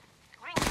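Gunfire in the video game Apex Legends, a sudden loud burst of rapid shots erupting after a quiet half-second and continuing to the end, close and dense.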